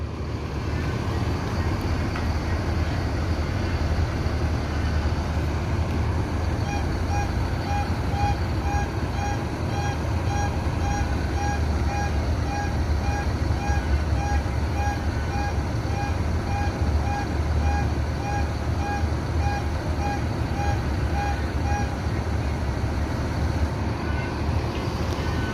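A Bumaran Jaya bus pulls out into heavy homecoming return traffic, with a steady low engine rumble and passing vehicles, and a repeated electronic beeping tone pulsing through the middle stretch; no one speaks.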